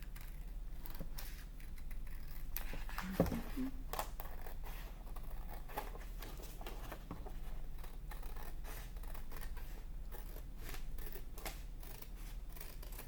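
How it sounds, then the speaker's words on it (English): Scissors cut paper along a pencil-drawn line to make an even square, giving a quiet string of close, crisp snips and rustles with one sharper snap and no talk. "then you are going to cut along that line so that we have a nice even square"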